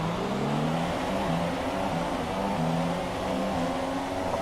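A pack of F1 2017 cars revving and accelerating away from the race start in Malaysia, a steady loud engine drone with rising pitch.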